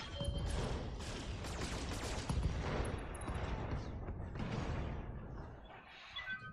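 Mech weapons fire in the Battletech video game, a dense, sustained barrage of rapid shots and crashing impacts with mechanical clatter, steady and loud throughout.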